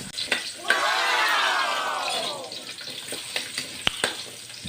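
Carrots sautéing in a pan for chicken curry, hissing and sizzling steadily as they hit the hot oil, with a few clinks and scrapes of stirring, close and moderately loud.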